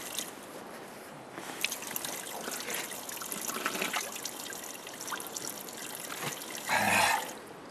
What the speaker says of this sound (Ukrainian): Вода з нього виточується невеличкою цівкою.